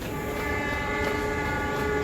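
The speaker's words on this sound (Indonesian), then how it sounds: "ada kereta dari sana" A train pulls into Lempuyangan station late at night, its steady rumble and wheel noise close and loud, with sustained horn-like tonal lines running throughout.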